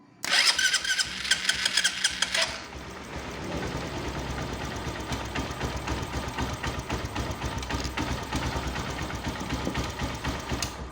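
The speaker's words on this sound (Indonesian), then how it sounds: "kabel positifnya itu kita langsungkan ke dinamo starter" Starter motor of a Honda Verza 150 motorcycle wired straight to the battery: a loud burst of electrical buzz at the start, then a steady whirring spin that runs on for several seconds, close up with no talk.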